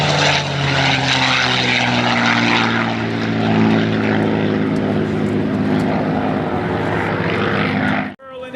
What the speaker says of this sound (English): Scott Scooter Yoke, Quicksilver P-51 Photo Pass.